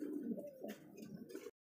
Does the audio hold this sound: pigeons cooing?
yes